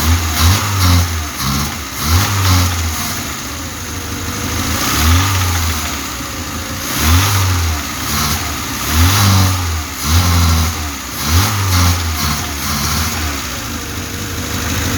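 A VAZ 2105 car engine runs close by, idling roughly and revving in repeated low pulses, with a steady mechanical drone throughout, just revived after a year of sitting unused.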